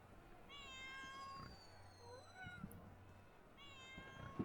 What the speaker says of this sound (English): Unless there's a cat over here.